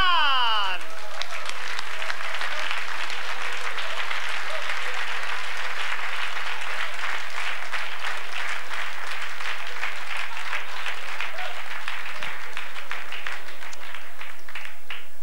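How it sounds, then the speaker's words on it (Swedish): Sustained, loud applause from a studio audience at a Swedish TV comedy show, dense clapping filling the whole stretch after a comedian is introduced, steady and full throughout. "En stor applåd för Johan Glan!"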